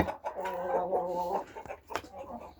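Hens on a farmyard cluck in a steady chatter while pecking at scattered feed, close and moderately loud, with a short pause and a couple of sharper calls near the end.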